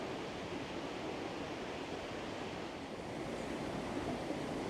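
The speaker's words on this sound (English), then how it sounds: "I wonder if we can get a view of that waterfall" Waterfall in Aberdare Park, Wales, a steady broadband rush of falling water, continuous and even throughout, heard at a moderate distance with no talking.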